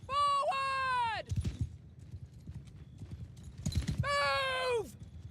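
Horses in a Mount & Blade Bannerlord battle clatter with a dense, rapid clip-clop of hooves close by, with two loud whinnies, one at the start and one near the end, over the galloping.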